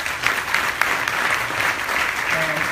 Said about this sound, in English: Please join me in giving her a nice round of applause.